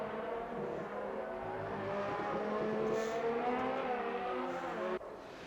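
An F1 race car in F1 2019 at the British Grand Prix, its engine droning steadily and pitch rising as it pulls out of the pits, then cutting off abruptly near the end.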